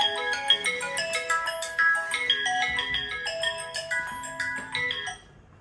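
A telephone ringtone plays a bright, repeating electronic melody for an incoming call, steady and moderately quiet, then cuts off after about five seconds.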